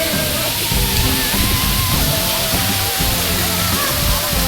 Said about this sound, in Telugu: నీళ్ళు అయితే ఇక్కడ నుంచి పడుతుంటాయి